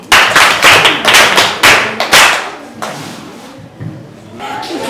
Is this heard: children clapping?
yes